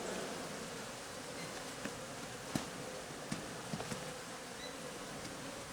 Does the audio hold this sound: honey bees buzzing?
yes